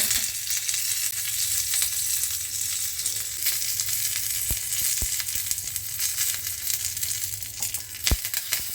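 Curry leaves hit hot oil for a roasted tomato chutney tempering, setting off a loud, sustained sizzle and spitting crackle, with a few sharp knocks of a utensil toward the end and no voices.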